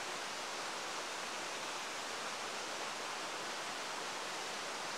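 Rushing water of Kandika Falls, a waterfall near Siddapura in Uttara Kannada running low on water, heard as a steady, even broadband roar with no breaks and no voices.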